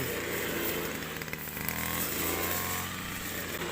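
A small two-stroke engine of a brush cutter buzzes loudly and steadily up close while harvesting rice, its pitch wavering slightly as it cuts.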